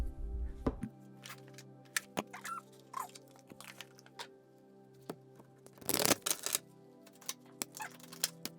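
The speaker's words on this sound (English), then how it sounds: "Let me get some cards shuffled." Tarot cards are shuffled close by in a quiet room, with crisp riffling clicks and taps scattered throughout and one louder rushing riffle near the end.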